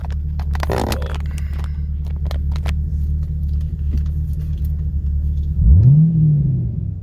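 A 2011 Camaro SS engine with an oil pump failure idles with a steady low rumble, then revs briefly and settles back, with a few faint clicks and knocks over it.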